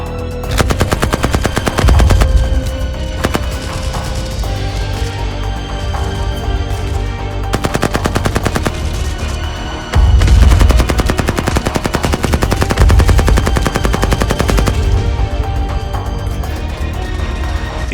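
Dense machine-gun fire from the Pointe du Hoc cliff assault on D-Day 1944, relentless rapid bursts and single shots layered into a loud, continuous battle din with no pauses.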